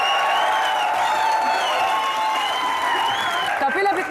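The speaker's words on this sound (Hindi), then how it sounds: "एक बार अजय देवगन और करीना कपूर के लिए जोरदार तालियां।" A studio audience at a TV comedy show applauds loudly and continuously for Ajay Devgn and Kareena Kapoor, with sustained music playing underneath the clapping.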